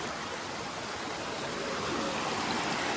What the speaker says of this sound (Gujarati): અહીંયા બાજુમાં છે ને ઝરણું વહે છે